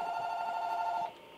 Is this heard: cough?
no